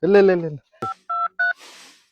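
A phone number is dialed on a keypad: a brief voice, then three short, evenly spaced touch-tone beeps and a soft hiss.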